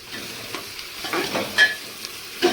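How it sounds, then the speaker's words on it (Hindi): Onions frying in a pan after salt is added, cooking down for a mutton leg curry; a soft, steady sizzle with light stirring scrapes and a couple of brief louder clinks, no talk. "प्याज को 5-10 मिनट भुने"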